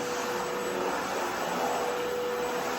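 A vacuum cleaner runs in a steady, even whine and rush throughout, fairly quiet and close, with no talk over it.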